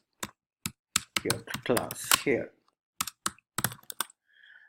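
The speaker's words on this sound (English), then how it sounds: "You can assign a specific class to this by typing in your class" Computer keyboard keys clatter in sparse, crisp clicks while someone enters a class name, interleaved with a person talking.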